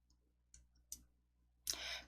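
A few sparse, close mouse clicks at a computer while working in PowerPoint, faint single clicks in near silence followed by a louder burst of noise at the end.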